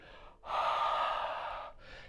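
A single long, breathy exhale, as if warming cold hands, blows close and steady for over a second between two softer breaths, with no talking.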